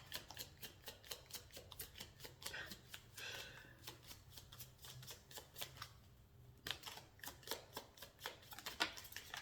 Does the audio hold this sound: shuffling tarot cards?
yes